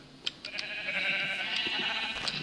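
Sheep bleating in the Minecraft world, several short bleats coming in quick succession over a steady background hum, fairly close and at moderate loudness.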